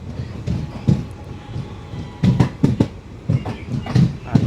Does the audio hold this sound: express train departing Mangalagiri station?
yes